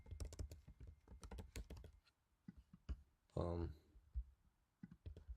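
Fingers type on a computer keyboard in quick bursts of close clicks, stop briefly while a person speaks, and then go on with a few scattered keystrokes.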